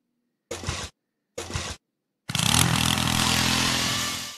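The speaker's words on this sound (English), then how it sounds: "maybe the drill might work." Drill machine in a Henry Stickman game: two short bursts of whirring, then a loud, sustained grinding run that slowly fades, with no speech.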